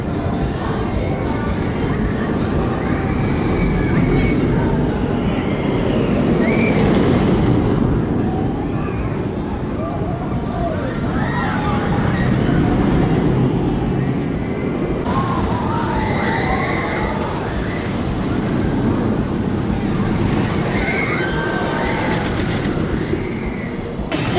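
A ride on the Steel Curtain roller coaster at Kennywood on a cold day, with a loud, continuous rumbling roar of the train on the track, rising and falling in waves, and faint riders' screams woven through.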